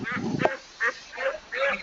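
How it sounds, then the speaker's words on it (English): Ducks quack faintly in the background in a few short, nasal calls spaced apart outdoors. "There are ducks around here."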